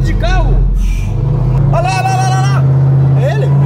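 A car engine revs and accelerates in a video game, a loud steady low hum that rises in pitch partway through, mostly buried under excited talking and shouting close to the microphone.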